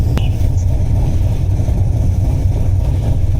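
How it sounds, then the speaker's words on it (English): Chevrolet Camaro Z28 engine rumbling steadily and loud at idle, a deep continuous low growl filling the whole stretch close by, with no talk over it. "We had to turn the car off because it's too loud."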